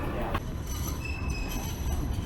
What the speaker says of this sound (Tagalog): Doon ang tren.